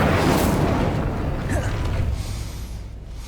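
Incendio fire spell cast in Hogwarts Legacy, a loud roaring whoosh with a low rumbling burst up front that slowly fades out over a few seconds.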